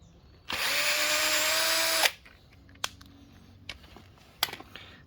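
A power screwdriver whirs loudly for about a second and a half while a screw is backed out of a Sur-Ron electric bike pedal kit, followed by a few sharp metallic clicks and taps close by.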